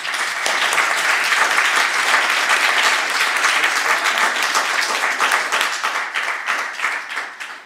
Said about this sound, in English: please give all our speakers a round of applause